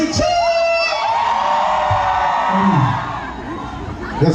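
A concert crowd cheers, whoops and yells loudly and steadily for about four seconds, its roar swelling and then easing, with some babble of voices mixed in.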